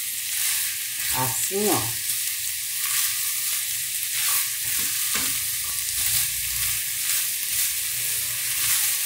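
Pork loin fries in a pan with a steady loud sizzle, broken by a few stirring scrapes, while a voice speaks briefly near the start.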